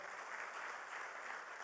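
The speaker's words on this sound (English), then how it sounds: "a round of applause for everyone that made this CANTO Connect possible" A conference audience at CANTO Connect gives a round of applause, a brief burst of dense, even clapping heard alone and slightly distant.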